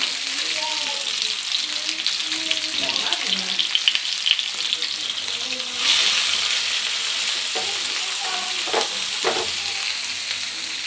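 A cup of small onions hitting hot oil for chicken lotpoti, a hissing fry that swells suddenly midway and keeps crackling, with faint background sounds and some tonal noise early on.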